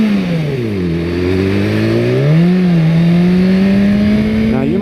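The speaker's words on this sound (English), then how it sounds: "I'm revving, I didn't mean to rev that loud" A motorcycle engine revs loudly and close, its pitch climbing, dipping and settling into a steady high drone.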